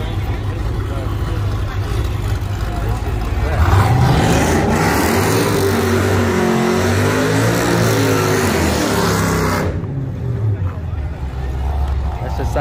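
A race car at a drag racing event revs and accelerates hard, its engine note climbing in sweeping pitch over the middle stretch. Crowd chatter and background babble run underneath.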